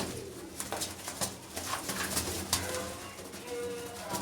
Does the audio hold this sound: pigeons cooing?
yes